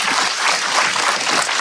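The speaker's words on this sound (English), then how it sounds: "A round of applause for Chris and Fletcher." Loud, dense applause from a live podcast audience at the Smoking Jacket 2023 event, close and continuous for a short burst with no talk over it.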